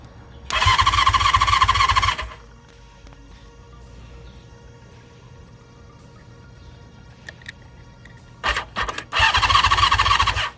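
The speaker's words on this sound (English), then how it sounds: "the engine would still bloop bloop every so often, but not actually run" A 1976 Honda CB550 motorcycle with fresh spark plugs is cranked twice, each attempt a loud whirring starter burst with sputters but no running engine, separated by a long quiet pause with faint clicks.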